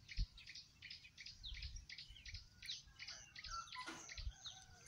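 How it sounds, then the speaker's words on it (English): Backyard birds chirp in quick repeated bursts on a quiet morning, several calls overlapping at a moderate distance with no voices. "And the birds chirping away."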